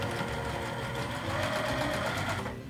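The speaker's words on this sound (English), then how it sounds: "you're going to sew just across the top here" Sewing machine stitching a 1/4-inch seam across batik quilt strips, a steady close mechanical whir with rapid needle chatter that runs continuously and then stops.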